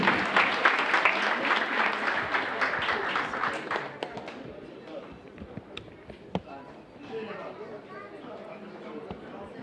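Audience applause for an actor walking onto a stage, a strong burst of clapping that thins out after about four seconds, leaving a few scattered claps and soft murmuring.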